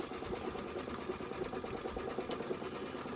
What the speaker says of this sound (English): I'm going to go ahead and stitch. This is going to be your tack down